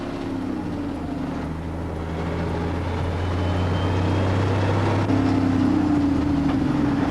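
A dump truck diesel engine runs in high range gear, holding a steady, loud low drone from inside the cab with a tone that rises and shifts slightly as the revs change.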